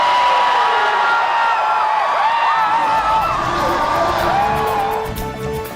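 Lotte baseball fans in a rain-soaked stadium in Busan cheer loudly as a player slides home through the water, a massed roar of voices and high whoops holding strong before fading slightly at the end.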